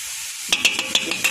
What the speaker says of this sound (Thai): กำลังเดือดเลยนะคะ